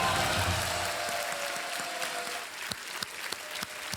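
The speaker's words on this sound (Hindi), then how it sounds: "तालियां बजाएं इनके लिए।" Studio audience applause on a Hindi quiz show set, a dense wash of clapping that thins out over a few seconds into scattered claps, with a low hum beneath.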